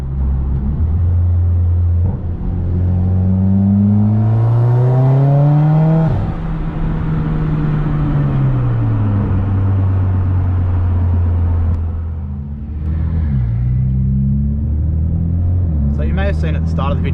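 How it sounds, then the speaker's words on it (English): A turbocharged Mitsubishi Evo X engine warms up, idling and revving up and down in long sweeping pitch climbs, a steady close rumble with whirring overtones throughout. "I'll keep letting the car warm up a bit, and I'll see if I can do a couple of pulls"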